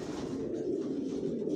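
A racing pigeon hen sitting on eggs in a loft gives a low, steady throaty cooing, close and continuous, with no talking.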